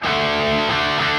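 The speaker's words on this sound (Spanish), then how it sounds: "Esto sería una distorsión más estándar, digamos." Electric guitar played through a standard distortion with scooped mids, a dense, sustained, saturated chord ringing loud and continuous with no talk.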